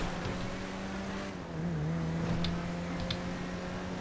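A fast luxury car drives in the FiveM video game, its engine humming steadily and shifting pitch briefly in the middle, with a few faint clicks over the moderately quiet drone.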